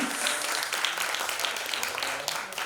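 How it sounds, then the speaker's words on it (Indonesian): Audience applause at a CEO awards event, a steady burst of many hands clapping with crisp individual claps, sustained throughout at moderate loudness. "Boleh kita berikan tepuk tangan?"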